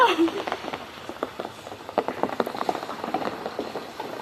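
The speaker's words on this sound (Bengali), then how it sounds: "বৃষ্টিটা কি আমাদের আরেকটু বাড়িয়ে দিল, বেশ ভালো লাগছে আরো বেশি বৃষ্টি হয়ে।" Rain patters steadily on a surface nearby during a trek at Warichora, a dense run of small irregular drops with a brief voice at the very start.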